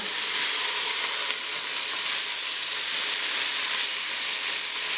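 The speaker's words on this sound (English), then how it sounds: "And then you go ahead and you stir." Seasoned shrimp creole with garlic salt and garlic powder being stirred in a hot pan, giving a loud, continuous close sizzle and hiss with no talking.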